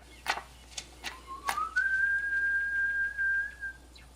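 A single person whistles a signal on a TV drama set in a post-apocalyptic world: a few short chirps, then one long, steady rising tone held for about two seconds, clear and fairly close over faint background.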